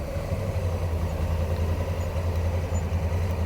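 A 2022 Honda Africa Twin motorcycle engine runs steadily in Sport 3 mode, a deep, continuous low rumble with a constant drone, close and loud throughout with no voices.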